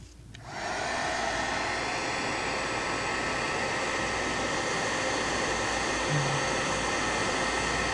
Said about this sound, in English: go at it again with our heat tool